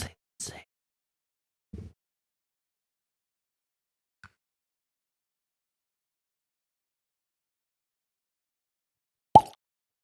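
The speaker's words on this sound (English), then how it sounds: "Let's see if we can get a good cork pop." A cork pulled from a full, freshly opened bottle of Peerless Double Oak bourbon gives one sharp pop near the end. Before it come a few soft handling taps and squeaks, with quiet gaps between them.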